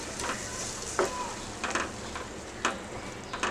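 Egg masala with beaten yogurt sautéing in a pan, a soft continuous sizzle broken by occasional scraping taps of a spoon against the pan.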